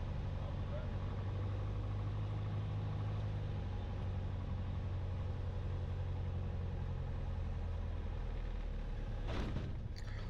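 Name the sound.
small airplane engine during first solo landing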